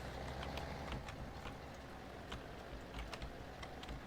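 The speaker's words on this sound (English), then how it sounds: "And I'm playing with the keyboard right now, so I apologize in advance." Faint computer keyboard clicks tap out in an irregular rhythm during a Farming Simulator 17 session, quiet keystrokes over a soft low background hum.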